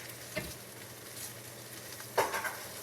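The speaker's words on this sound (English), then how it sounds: "Just going to coat these potatoes in lovely onions and sausage." Potatoes with onions and sausage are stirred in a frying pan for potato chicken ranch, giving a soft sizzle with two distinct scraping stirs, one brief and one longer near the end, and no talk.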